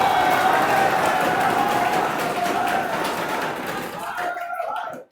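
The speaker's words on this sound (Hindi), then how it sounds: "एक बार जोरदार तालियां बजा के मुझे आदेशित करें" Audience at a Teacher's Day event at Esaral Gurukul, Kota, breaking into loud, dense, sustained applause with voices mixed in, thinning out and stopping abruptly at the end.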